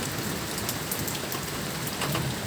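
Heavy rain pours steadily and densely, a constant hiss of drops striking surfaces close by with no pauses and no voices.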